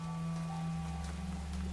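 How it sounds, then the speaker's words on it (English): Rain falling in the puzzle video game The Talos Principle, a steady, even hiss that holds at a constant level throughout over a low continuous hum, with no voices. "It's raining again."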